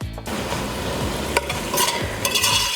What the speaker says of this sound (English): now we're just going to let the veggies cook down for a few minutes until they're soft and translucent